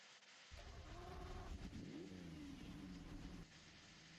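A Lamborghini Diablo SV in a driving video game starts up: a sudden cranking burst, then a steady engine idle with rising and falling revs, ending in a quieter settle near the end.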